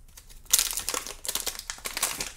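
Plastic packaging for an Epson WorkForce Pro WF-4820 printer ink cartridge being ripped open by hand, a sharp tearing burst followed by a run of close, crackly crinkling and rustling that continues in uneven bursts.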